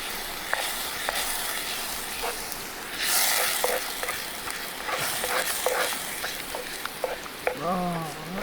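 Spaghetti bolognese sauce stirred and warming in a pan outdoors by a river, a soft continuous sizzle with occasional scrapes and clinks, faint voices and background noise around it.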